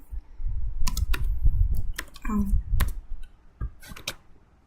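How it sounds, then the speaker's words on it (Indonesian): Keystrokes on a computer keyboard entering the ipconfig command at a command prompt, scattered irregular clicks mixed with speech and a low background rumble. "Di sini kita ketik IP config."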